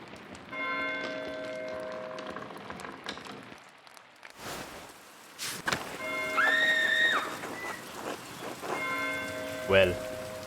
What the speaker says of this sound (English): God give me strength to endure the rain.